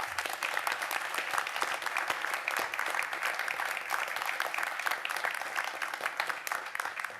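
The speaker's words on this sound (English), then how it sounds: "Let's give them a round of applause." An audience at a university Board of Regents meeting claps steadily for several seconds, a dense, even applause from many hands with no voices over it.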